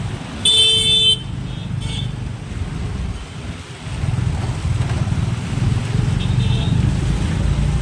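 Road traffic heard from a moving vehicle in a congested, waterlogged street, with a brief loud car horn blast early on, a second shorter toot, and a steady engine and road rumble throughout.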